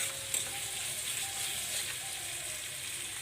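Onion sizzling in a frying pan over a high gas flame, with okra going in for frying. A steady, even crackle runs throughout at close range, with no talking.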